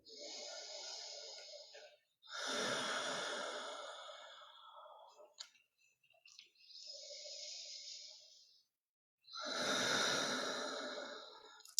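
Slow, deep breaths during a gentle chair yoga session, long airy inhales and exhales alternating with brief pauses, soft and close.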